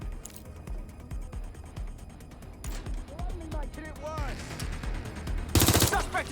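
Gunfire in the video game Watch Dogs Legion, rapid automatic bursts and mechanical clatter mixed with game music and voices, rising to a loud blast near the end.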